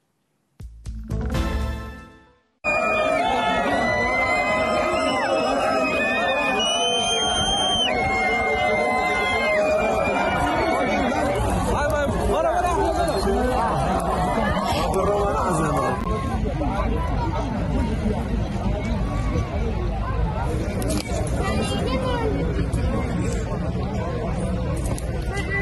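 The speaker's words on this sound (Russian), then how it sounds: "Ликование мигрантов в лагере вдоль белорусско-польской границы." Migrants cheer and shout in a crowded camp along the Belarus-Poland border at night, a dense, loud roar of many voices with whistles and scattered high cries sustained throughout after a brief opening burst.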